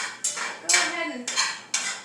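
Meat being scraped out of a hot pan with a utensil, four sharp metallic scrapes in quick succession, close and fairly loud, with no talk.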